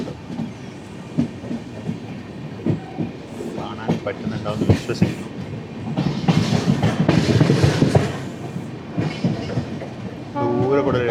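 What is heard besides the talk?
distant LHB train passing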